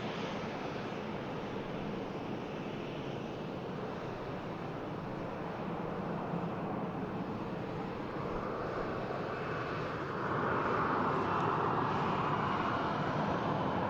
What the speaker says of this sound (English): here's the beautiful Egypt Air on the taxi now